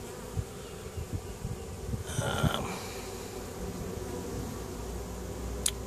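Bees from a newly caught swarm buzz and fan at the entrance of a five-frame nucleus hive, a steady low hum with a brief louder swell midway as a few stragglers fly close.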